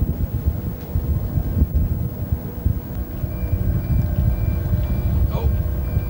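A GPS unit beeps aboard a small boat with an outboard running, a few short electronic tones rising over steady low engine rumble and wind buffeting the microphone.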